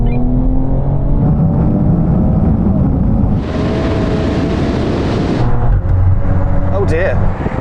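Tuned hatchbacks, a VW Golf R, BMW M240i, Audi RS3 and Mercedes-AMG A45 S, in sport mode and manual 3rd gear, accelerate hard together from a 50 mph rolling start, a loud sustained engine roar with a gear change partway through and an occupant's voice over it.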